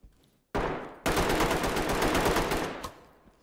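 Rapid automatic gunfire from a decoy grenade in the tactical shooter Ready or Not, a loud dense rattle that bursts in, pauses briefly, then runs continuously for about two seconds before cutting off.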